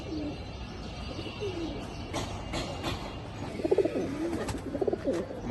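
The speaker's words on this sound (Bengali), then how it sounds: "একদম টপ কোয়ালিটি এক পেয়ার ইন্ডিয়ান চুইঠার লাল দম কবুতর" A pair of Indian red-tailed pigeons coos softly, with a few repeated throaty coos rising in the second half over a steady background hiss.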